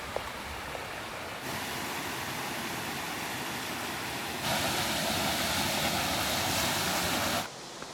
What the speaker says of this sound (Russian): На картах указаны именно вот эти водопады